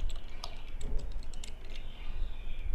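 Rapid, close keystrokes clatter on a computer keyboard as a command is entered in Kali Linux, an irregular stream of light clicks over a low background hum, with no speech.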